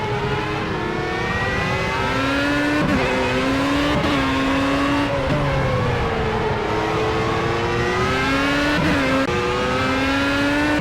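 A race car in Project CARS drives the Brands Hatch circuit, its engine loud and continuous, the pitch climbing and dropping through repeated gear changes as it powers out of a corner, with no voices over it.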